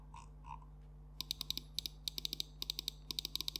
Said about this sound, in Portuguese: Conseguimos também spamar cliques tranquilamente.